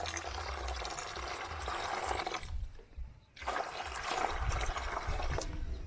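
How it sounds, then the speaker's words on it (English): Warm water poured from a container into a basin for bathing a small baby in a village home, a continuous splashing trickle that briefly drops away near the middle before pouring resumes, close and alone without talk. "I have to put on the warm water first"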